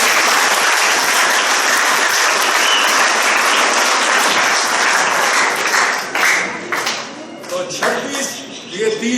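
A gathered audience at a Ramadan assembly claps loudly in a dense, sustained burst that thins into scattered individual claps toward the end, with voices rising underneath.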